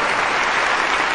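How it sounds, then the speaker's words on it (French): A church congregation claps in a steady, dense burst of applause that fills the room, loud and close throughout. "Nous allons donc maintenant nous mettre debout pour applaudir notre Dieu"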